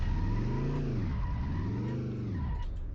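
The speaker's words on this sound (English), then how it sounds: "Oh, and you actually got to move the car." A car in the Express Car Wash Simulator game pulls away with a loud, steady engine note rising and falling through two revving sweeps, some tire noise audible, and no voices.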